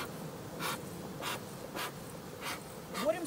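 Honeybees buzz faintly around a hive during a honey harvest, a soft, steady drone broken by a series of regular brushing or rustling bursts close by.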